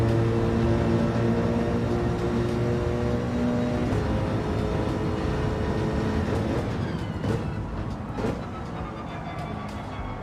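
A Porsche race car engine in Gran Turismo 7 drones steadily at sustained high revs for about ten seconds, its tone shifting slightly as the car works through a turn, with no one talking.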